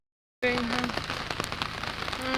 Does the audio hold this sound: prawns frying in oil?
no